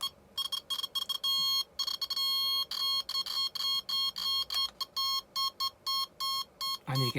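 A Soviet ELAT radiation alarm meter beeps rapidly and steadily in short, loud bursts with brief gaps, reacting while detecting radiation, with a final louder burst at the end.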